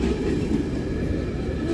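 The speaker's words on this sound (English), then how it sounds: "Tankers coming up." CSX freight train tank cars roll past close by, a loud, steady rumble of wheels and rail noise with a faint clatter, continuous throughout and with no voices.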